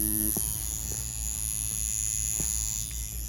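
Wireless Ambition Ninja tattoo machine running steadily, a continuous close electric buzz with a high whine and low hum, with a few faint clicks and no talking.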